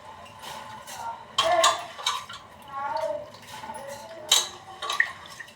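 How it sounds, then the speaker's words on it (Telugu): Soaked rice pours into a cooking pot with a few grainy rattling bursts and clinks of a utensil on metal, close and moderate, as a voice talks quietly in the background. "నేనైతే రైస్ వేస్తున్నానండి"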